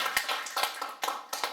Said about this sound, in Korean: 이때 박수 한번 보내주세요.